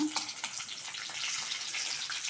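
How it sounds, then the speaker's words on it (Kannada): Raisins fry gently in ghee over a slow flame, giving a faint, continuous sizzle with soft crackles that stays quiet and steady throughout. "ಸ್ವಲ್ಪ ದ್ರಾಕ್ಷಿ ಸ್ವಲ್ಪ ಹಣ್ಣು ಮಾಡಿಕೊಂಡ್ರೆ ಸಾಕು ತುಪ್ಪದಲ್ಲಿ ಹುರಿಬೇಕಿದೆ"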